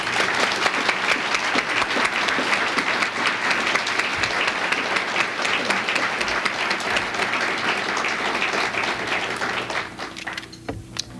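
Audience applause welcoming Ambassador Edward Perkins, the US ambassador to South Africa, at a Portland event: steady, dense clapping from a large crowd that holds for about ten seconds, then thins out and fades near the end.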